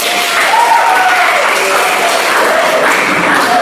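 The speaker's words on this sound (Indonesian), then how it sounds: "tepuk tangan" Applause from a group of school students, dense continuous clapping with a few voices mixed in, loud and close throughout.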